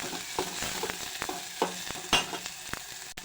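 Chopped onions and green chillies frying in a pan for a home-cooked jhunka, with a soft continuous sizzle broken by repeated scraping and stirring strokes of a spoon against the pan, close and alone without talk.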